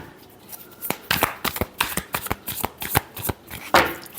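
Tarot cards shuffled by hand in a steady run of crisp riffling slaps and flutters, close and clear, with no talking over them.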